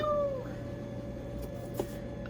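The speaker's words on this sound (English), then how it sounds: "Meow!" A cat gives a short meow near the start over a steady background hum, followed by faint scattered noises.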